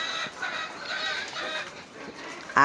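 Egg-laying hens cluck softly in a poultry farm, giving scattered, moderately near clucks and murmurs at a low level, with a sharper sound right at the end.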